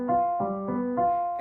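A dominant seventh chord voiced without the fifth, heard as steady sustained pitches re-struck four times in quick succession, clean and close with no speech.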